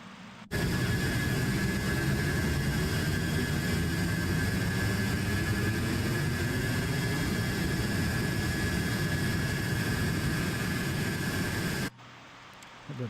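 MD-80 jet engines spool up to full throttle in a flight simulator, a loud, steady broadband roar with a rising whine that holds for about eleven seconds before cutting off abruptly.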